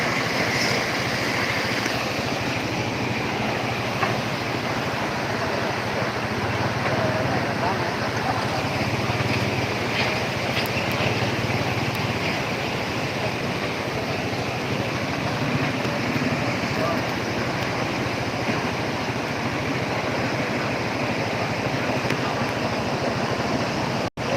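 Floodwater surges down the Batang Sani river at Tandikek, Patamuan, in a steady, loud rushing roar of churning water that fills the whole span, with wind buffeting the microphone and faint voices underneath.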